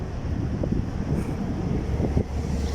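Strong wind during a sandstorm in Kuwait buffets the microphone in a continuous low roaring rumble with gusty surges, loud and close, with no clear speech.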